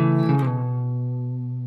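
An electric guitar double-stop lick, struck once and left ringing, the sustained tone slowly fading over under two seconds, close and alone.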